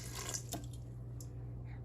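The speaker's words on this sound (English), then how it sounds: "just fill up some warm water" Warm water runs from a kitchen tap into a measuring cup for Italian bread dough, a steady faint splashing stream against a low hum, with a few brief drips or clinks.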